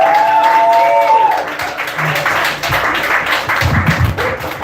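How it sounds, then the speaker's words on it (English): Applause rises and falls throughout, with crowd noise and a few brief voices mixed in the clapping. "clap it up, clap it up, clap it up"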